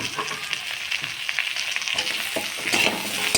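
Vegetables and drumsticks frying in a pan for sukto, stirred with a utensil, giving a close, steady sizzle broken by short scraping strokes, with no talking.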